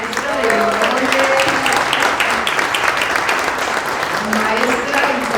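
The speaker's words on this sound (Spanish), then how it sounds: "Gracias por aplaudirle a ella y a las cocineras tradicionales de Oaxaca y del mundo" An audience at a book launch for a mole cookbook in Oaxaca applauds traditional mole cook Estela Gabriel, steady dense clapping throughout with some voices and cheers mixed in.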